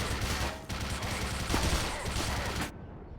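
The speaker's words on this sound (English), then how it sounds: "Shoot him, turret!" Automated turret in the video game Black Mesa firing sustained rapid bursts of gunfire, loud and dense across nearly three seconds before cutting off abruptly into quiet.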